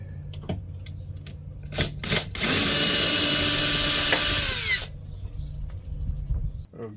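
Power tool whirring at a 10mm bolt on a 2005 Toyota Tacoma door switch, a loud steady burst lasting about two seconds, preceded by a few short clicks and knocks, then quieter handling noise.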